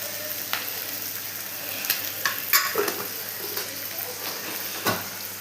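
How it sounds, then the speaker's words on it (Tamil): Chilies and tomatoes sauté in a pan, giving a low continuous sizzle with scattered clicks and taps from a stirring utensil against the metal. "மிளகா, தக்காளி இதை போட்டு நல்லா ஒரு 2 நிமிஷம் வதக்கிக்கோங்க கைஸ்"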